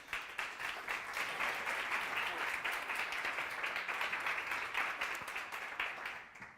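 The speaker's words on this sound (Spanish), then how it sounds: "Un aplauso, por favor" Audience at a Spanish-language emotional wellbeing summit applauding a welcomed guest, sustained even clapping that tapers off at the end, fairly faint and distant.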